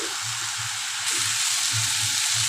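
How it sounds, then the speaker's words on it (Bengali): Mixed vegetables with ginger frying in a pan give a steady close sizzle, with a low bubbling murmur underneath that swells a little louder partway through. "আরেকটু সময় সবজিটাকে ভাজা করে নিই"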